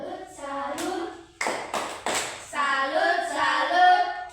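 A primary school class in Indonesia does a rhythmic 'tepuk salut' clap chant: children's voices chanting in unison, broken by a quick run of three sharp group claps before the chant resumes.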